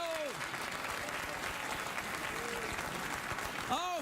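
Studio audience applause on a late-night talk show, a steady dense wash of clapping from start to end, with a voice talking over it.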